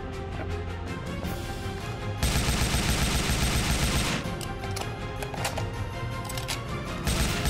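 Rapid gunfire from behind cover in the video game Gears of Babies, dense automatic bursts rattling continuously at close range, with a louder stretch of sustained firing midway.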